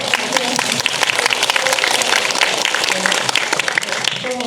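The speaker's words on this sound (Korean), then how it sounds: "박수 한번 칠까" Audience applause at a Bucheon International Fantastic Film Festival (BIFAN) Q&A screening, a steady dense clapping crowd filling the hall with loud, continuous sound, voices faintly mixed in.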